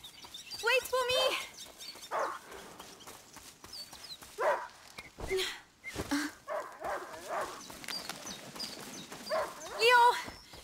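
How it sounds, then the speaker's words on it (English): A hunting dog in the video game A Plague Tale: Innocence gives several scattered barks, some near and some farther off, among voices and outdoor ambience. "A hunting dog! Is not supposed to lose its hunter."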